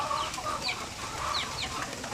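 Chickens cluck softly at a middle distance through a steady wash of rain, a few short calls rising over the constant hiss.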